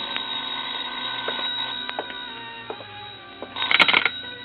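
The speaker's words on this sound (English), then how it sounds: "I was about to go downstairs when the phone rang." A telephone rings indoors in an old radio drama, with brief clicks and small bumps first, then a loud burst of ringing toward the end.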